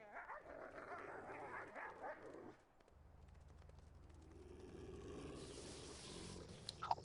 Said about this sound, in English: Angry dog sounds.